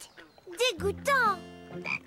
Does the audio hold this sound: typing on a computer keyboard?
no